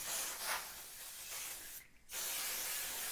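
Temporary adhesive sprays from an aerosol can onto stitch-and-tear embroidery stabilizer in a new Husqvarna 260 x 260 hoop: a close, loud hiss in two bursts separated by a short pause.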